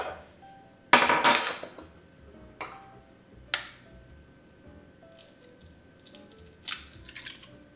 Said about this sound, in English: in this bowl, I'm gonna crack the 3 eggs